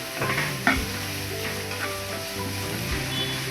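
Dried chillies, finely chopped onion and curry leaves sizzle in hot oil while being stirred, a close, steady frying hiss with a sharp clatter near the start.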